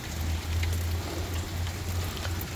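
Rain falls steadily outdoors, a close, even wash of patter with a low rumble beneath it throughout.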